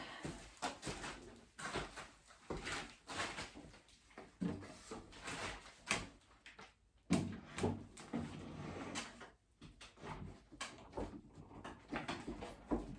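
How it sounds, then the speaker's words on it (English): A wooden dresser drawer is being worked back into its slot, giving repeated faint scraping, knocking and sliding sounds in irregular bursts. Each one is short, and no one talks. "These drawers are very hard to put in."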